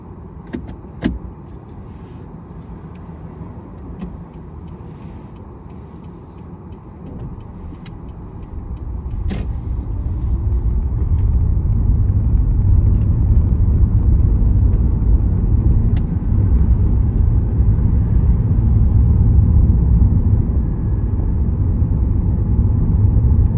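A car on a driving test route in Bletchley, Milton Keynes pulls away from a stop: a quiet cabin with faint clicks gives way to a rising engine rumble and road noise that builds steadily and stays loud.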